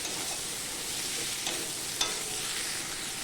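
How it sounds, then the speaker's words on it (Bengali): Garlic sizzles softly in a pan with onion and tomato added, a low steady frying hiss with a few faint clinks and stirring sounds, quiet and continuous. "রসুন ভাজতে ভাজতেই দিয়ে দেব পেঁয়াজ টমেটো।"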